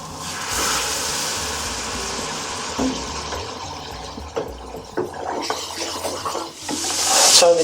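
A spoon turns meat and ladled base gravy through a thick vindaloo in a pan, giving soft wet scraping and sloshing with occasional clinks against the metal, close up and without talk.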